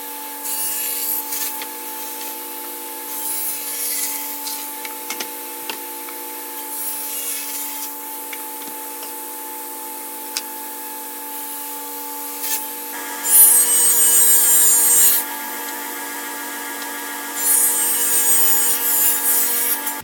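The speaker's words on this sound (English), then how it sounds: "we're going to cut some shelves" Wood shelves for a Shaker cabinet are cut with a saw, giving a steady rasping, rubbing sound over a constant machine hum that grows louder and harsher in the later stretches.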